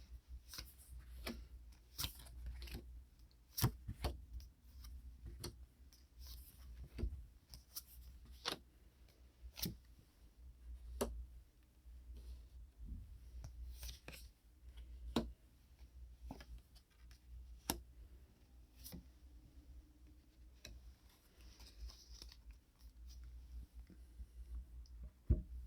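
Tarot cards are dealt and handled in a quiet close-up: crisp, scattered taps, slides and clicks at irregular intervals, soft and intimate, with no talking.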